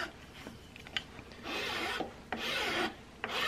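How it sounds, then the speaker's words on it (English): A rasp works around the edge of a wooden plug for a powder horn, shaping it into a dome. Several slow, steady scraping strokes sound close and dry, with short pauses between them. "I'm going to go around the edge of my plug at a consistent angle here and just slowly start doming that plug."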